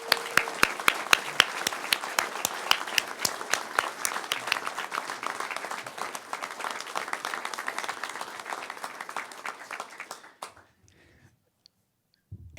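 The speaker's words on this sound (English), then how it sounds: "let's give another round of applause to our new police chief" A crowd applauds the new Long Beach police chief, Robert Luna: a burst of loud individual claps that blend into sustained applause for about ten seconds, then stop abruptly, leaving near silence with a few faint sounds.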